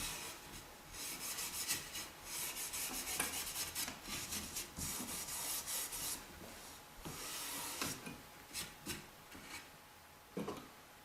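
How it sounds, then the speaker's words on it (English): Steel wool rubs dark wax over chalk-painted furniture in quiet, repeated back-and-forth scrubbing strokes with brief pauses, close and soft. "I'm going to take my steel wool and go right over it and just blend that in good."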